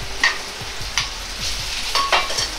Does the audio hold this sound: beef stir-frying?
yes